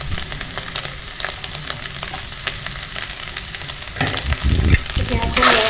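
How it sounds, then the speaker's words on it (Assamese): Soybean chunks fry in hot oil with a steady, loud sizzle while a utensil stirs and scrapes through them, the scraping growing stronger near the end. "তথাপিও সয়াবিনটো এনেকৈ ভাজিলে তেলটো শুহি লয়"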